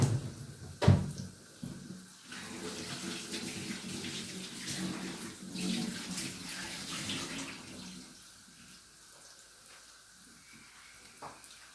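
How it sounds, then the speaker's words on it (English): Tap water runs steadily while tomatoes are washed at a kitchen sink, a broad continuous splashing that holds for most of the stretch, opens with a sharp knock and fades toward the end. "Let me wash the tomatoes."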